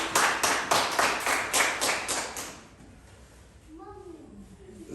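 A church congregation claps in rhythmic bursts for a couple of seconds, then the clapping fades and a voice speaks over a quieter room.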